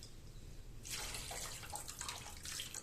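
Water pours onto semolina in a pot for vegetable upma, a quiet steady gush that begins after a short pause and keeps running to the end.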